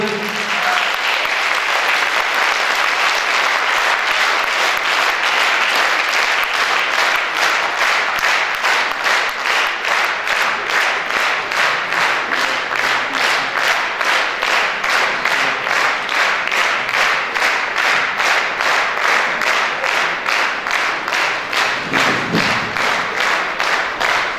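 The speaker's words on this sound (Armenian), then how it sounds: "եկեք ծափահարենք" Sustained audience applause, dense and steady throughout, with many hands clapping together at high volume.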